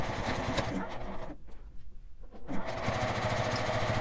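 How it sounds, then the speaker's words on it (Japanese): A sewing machine runs a topstitch along a bag's lining, its fast rattling stitch heard close, pausing briefly in the middle before starting up again at the same steady pace. "裏布に端ミシンをかけます。"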